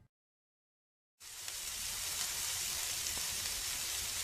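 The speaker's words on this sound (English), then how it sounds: "Hear that? That's the sound of steaks on a grill." Steaks sizzle on a grill, a steady, close hiss of frying that begins abruptly after a second of silence and holds evenly to the end.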